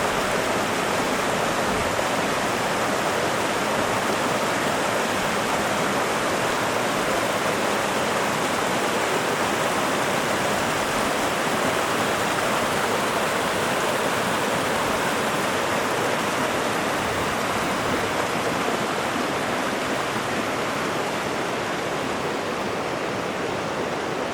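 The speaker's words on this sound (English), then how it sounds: "Found a stream." A mountain stream rushes steadily and loudly nearby on a Sierra hike, a dense, unbroken wash of flowing water with no voices.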